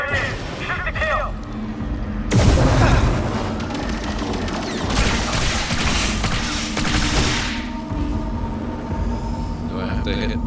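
Gunfire from the Fallout 3 video game, with a heavy blast about a quarter of the way in followed by a longer run of rapid, loud shots and crashing impacts, then quieter scattered noise.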